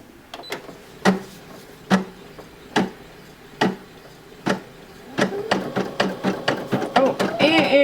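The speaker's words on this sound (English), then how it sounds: "All right, so now let's start sewing again." Brother PE800 embroidery machine stitching a onesie: spaced mechanical clicks and whirs, then a faster run of rhythmic stitching pulses, close and fairly quiet.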